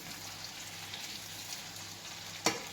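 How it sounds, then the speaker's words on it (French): Chorizo tortilla mixture sizzles gently in a frying pan as it is stirred, with a steady soft crackle and a single sharper scrape near the end. "On vient mélanger pour dire qu'il y en a un peu partout."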